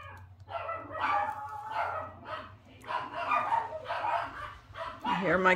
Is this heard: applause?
no